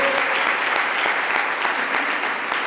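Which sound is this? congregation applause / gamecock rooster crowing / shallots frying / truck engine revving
congregation applause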